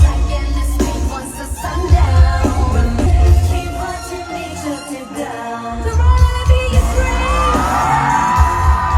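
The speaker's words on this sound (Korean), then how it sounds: "관중들의 환호성이 터져나왔습니다" A crowd at a concert in Toronto shouts and cheers loudly and without a break, with high screams and whoops rising over heavy booming music that carries through the whole stretch.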